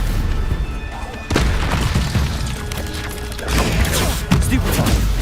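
Stupefy spell casts in Hogwarts Legacy combat, a series of sharp booming impacts and thuds at irregular intervals over a steady game soundscape, loud and near.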